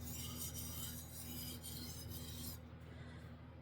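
Japanese chef knife sharpened on a whetstone, a close, continuous gritty rasping of steel on stone in steady back-and-forth strokes, easing toward the end.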